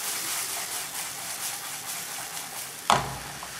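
Onions for ramen noodle soup sizzle in a hot pan in a soft, steady hiss, then a sudden louder burst as more goes in near the end, close and with no talk.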